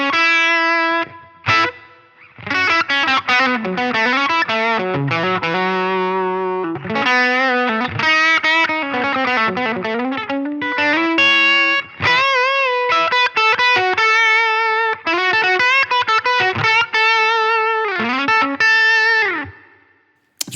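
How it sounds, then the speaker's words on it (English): Electric guitar through a Line 6 Helix with plate reverb set to 4.5 decay, 4 kHz high cut and 25% mix, playing sustained, bending lead phrases with a warm, slightly driven sound and a soft reverb tail. "So I chose a plate reverb with"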